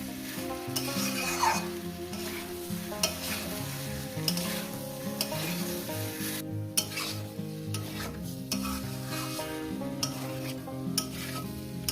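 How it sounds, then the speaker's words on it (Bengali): Potatoes and young green jackfruit sautéing in spice masala, a steady sizzle and hiss with repeated stirring and scraping of a spoon against the pan, close and continuous, with background music. "এরপর দিয়ে দেবো আলু আর এঁচড় দিয়ে আমি আরও এক মিনিট কষিয়ে নেব"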